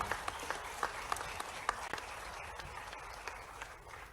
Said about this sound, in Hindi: एक बार पूरे मंच के लिए जोरदार तालियां बजा दें और अपने आप के लिए भी